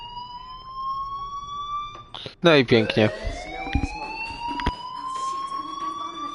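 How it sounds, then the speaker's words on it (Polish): A steady electronic alarm tone with rising harmonic pitch sounds throughout a scene in the game Life is Strange, briefly overlaid by a short burst of spoken words and a few clicks midway. "Hey, do you hear that fire alarm?"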